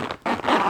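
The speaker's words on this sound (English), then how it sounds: "sorry about the zipper sounds" A brief, close zipper rasp in short ragged bursts with a momentary pause, loud and gritty.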